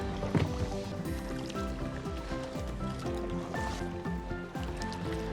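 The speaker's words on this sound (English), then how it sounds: "Let's go for a paddle." A kayak paddled on calm, flat sea water at Redcliffe in the morning, with steady soft splashes and water movement close by, continuous and fairly quiet, with no voices.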